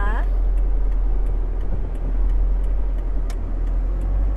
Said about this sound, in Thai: คันนี้นะคะออกตัวดีค่ะลูกค้า เครื่องไม่มีสะดุดนะคะ